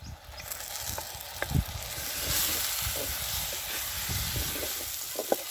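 Tomatoes frying in hot oil for a village-style budamkaya curry, giving a steady, fairly loud sizzle and hiss with occasional stirring clatter and soft pops throughout, no voices.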